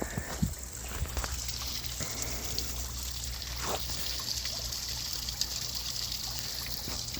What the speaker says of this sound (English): So there's the main drain for the pond.